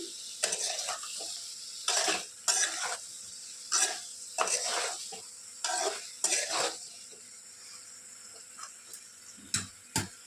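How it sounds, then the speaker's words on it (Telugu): Eggplant pieces coated with salt and turmeric fry in a pan under repeated bursts of stirring, each a short scraping, clattering rush over a soft sizzle, close and without speech. "ఇలా ఉప్పు పసుపు మొత్తం పీసుకి పట్టేలాగా మిక్స్ చేసుకొని దీన్ని కుక్ అవ్వనివ్వాలి, ఫ్రై అవ్వనివ్వాలి."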